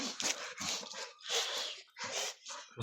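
A dog whimpers and yips repeatedly in high, whiny bursts close by, with short pauses between cries.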